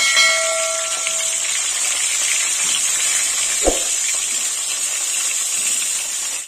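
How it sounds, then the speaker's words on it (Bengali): Eggplant pieces, salted and coated in turmeric, frying in hot oil, giving a steady close hiss and sizzle throughout with one brief low thump partway through. "এই তেলেই বেগুনটা ভেজে নেব"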